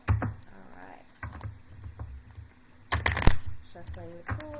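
Tarot cards riffled and shuffled by hand, a few short papery bursts of flicking and snapping between pauses, with someone talking softly over parts of it.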